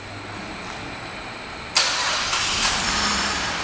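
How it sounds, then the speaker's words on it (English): A 2011 Cadillac SRX starts by remote start after a quiet stretch, the engine catching with a sudden burst and settling into a steady idle nearby. "One of the many features in this vehicle is a remote start, and I'll demonstrate that now."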